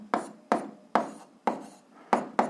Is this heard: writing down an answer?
yes